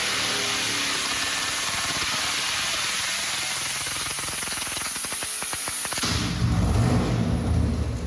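A carbureted engine on a dyno roars steadily at high revs with a hissing, rushing tone, then the throttle is pulled back and the sound shifts to a rougher, lower rumble.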